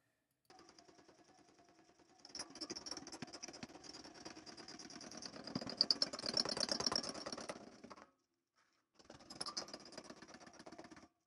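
Cardboard flapping in spinning bicycle spokes makes a motorbike-like foley sound, a rapid buzzing rattle that builds louder as the wheel speeds up, stops briefly, then starts again.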